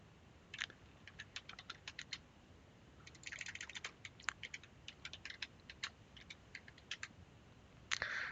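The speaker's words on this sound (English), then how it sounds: "So I'm just typing first label" Quiet, irregular keystrokes tap on a computer keyboard while text is entered into banking software, short bursts of typing separated by brief pauses.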